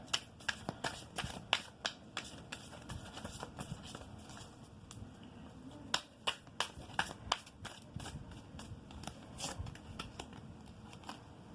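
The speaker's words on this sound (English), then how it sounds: "I'm going to pull one more card." Tarot cards are shuffled in rapid bursts of crisp riffling clicks and snaps, then pause briefly before another flurry of shuffling as a card is drawn, close and fairly quiet.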